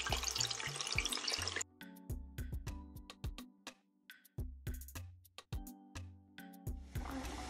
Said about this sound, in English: our oil is hot now, so let's fry our